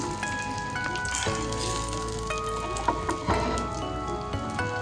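Long pieces of bhaakas fish sizzle in a pan, a steady close crackle of hot oil with occasional sharper pops and spits, no voices over it.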